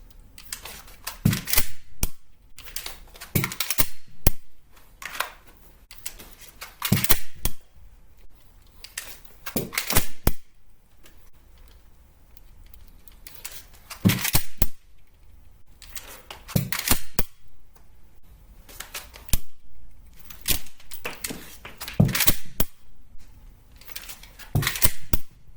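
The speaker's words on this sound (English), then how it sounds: "We'll do a few of these reloads." Repeated handgun magazine reloads practised from an appendix carry position: bursts of sharp metallic clicks and clacks in clustered groups with short pauses between, close and crisp, no talking.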